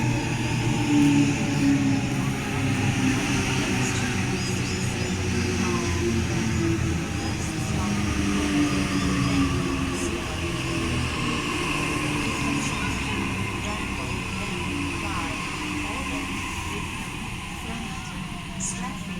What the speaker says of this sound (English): the Leppington train is about to arrive as well